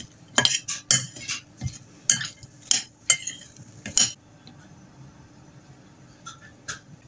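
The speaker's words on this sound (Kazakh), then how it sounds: "Жақсылап араластырып" A utensil stirs vegetables with vegetable oil and Provence herbs in a pot while making zucchini soup, giving a series of sharp clinks and scrapes for a few seconds before fading to quieter, sparser taps.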